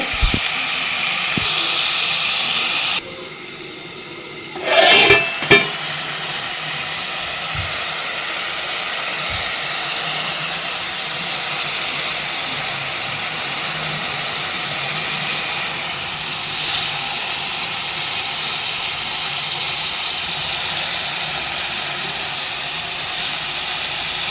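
Country chicken with ginger paste and turmeric cooks in a pan, giving a loud, close, continuous hissing sizzle broken by a few sharp clinks early on and no voices.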